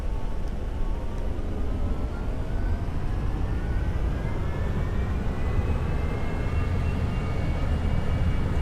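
A Boeing 737-800 jet takes off in the X-Plane 11 flight simulator, its engines a steady, loud roar with a tone that rises slowly through the run, no voices.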